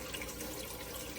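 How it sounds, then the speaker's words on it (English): Water pumped to the top of an indoor hydroponic tower garden cascades and drips down past the planting ports, making a steady, even trickle with no pauses. "It goes to the top and then it cascades down. You can probably see the little drips of water coming down on this plant right now."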